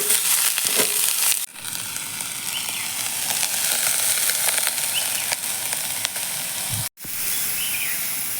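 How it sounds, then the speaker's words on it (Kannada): Onion and garlic frying with whole spices such as cardamom in a home kitchen pan: a steady, loud sizzle and hiss runs throughout, broken by two brief dips where the sizzle cuts out for a moment. "ಈಗ ಈರುಳ್ಳಿ ಬೆಳ್ಳುಳ್ಳಿಯನ್ನು ಕೆಂಪಗಾಗುವವರೆಗೂ ಹುರಿದು ತೊಗೊಳ್ತೀನಿ"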